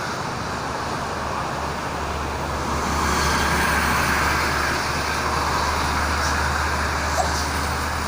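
Heavy, congested traffic on a toll road toward Jakarta just after a heavy rainstorm, producing a steady, loud roar of cars, buses and trucks that swells slightly midway, with no speech.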